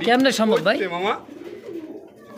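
Large feather-footed fancy pigeons coo softly in a low, murmuring tone, first under a man's close, loud talk and then briefly on their own.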